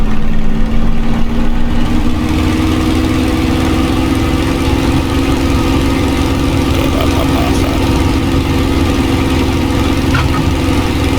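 Spitfire LF Mk IXc piston engine steadily running up, a loud continuous drone with a strong steady hum that holds at a near, even level throughout.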